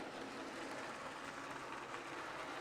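A Bachmann HO scale Thomas model train runs along its track with a faint, steady rolling hum and soft rattle, heard alone and at a distance.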